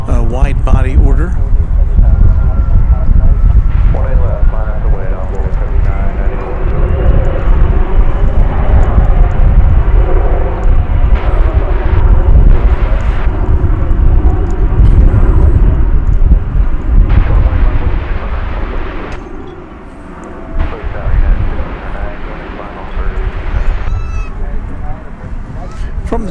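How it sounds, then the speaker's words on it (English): A Boeing 737-800 jet airliner at Dallas Fort Worth Airport gives a loud, sustained engine roar and rumble that swells and fades, while people talk over it much of the time. "From the Twin Cities comes flight 2283, 737-800."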